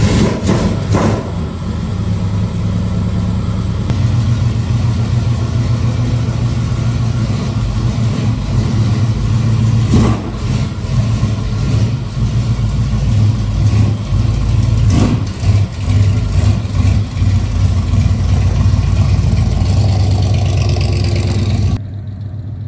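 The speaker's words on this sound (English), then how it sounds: "let's play some musical trucks and get this truck in that bay" A Chevrolet C10 truck's engine runs loud and close as the truck is moved into a workshop bay, a steady rumbling idle with several short revs over about twenty seconds before it cuts off.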